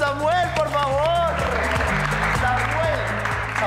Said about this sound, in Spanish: Un aplauso para Samuel, por favor